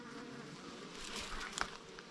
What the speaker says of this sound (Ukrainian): Прямо напад іде осів.